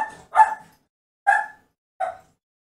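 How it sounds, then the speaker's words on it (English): A dog barks three times, close and loud, with short gaps between the sharp barks and nothing else underneath. "Every time I speak, my dog barks"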